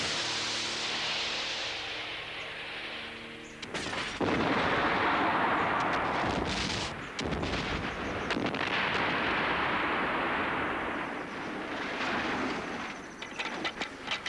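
A homemade rocket blast for a film effect erupts after a brief hum, a loud, close burst of broad roaring noise that surges, briefly breaks off, then rushes on and slowly fades with scattered crackles.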